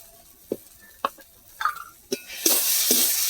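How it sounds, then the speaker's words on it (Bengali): Spices with chilli powder and garam masala are stirred for egg curry in a pan: several separate scrapes and clicks at first, then a steady, louder sizzle of frying toward the end. No one talks. "ভালো করে কষিয়ে নেব"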